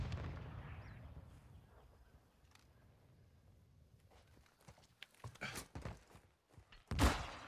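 A grenade explodes in a video game shootout as a single loud, sharp blast near the end, after a stretch of quieter game ambience with scattered smaller bangs.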